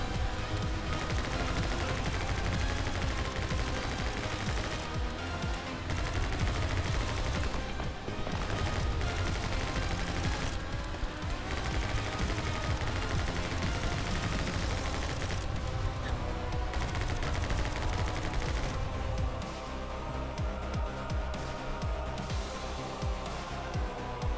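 Dense, continuous gunfire from the action video game My Friend Pedro, rapid bursts and shots layered over a loud game soundtrack for the whole stretch, no talk.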